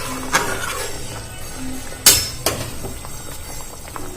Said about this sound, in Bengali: আমি ঢাকনাটা খুলে দেখে নিচ্ছি আলুটা সেদ্ধ হয়ে গেছে কিনা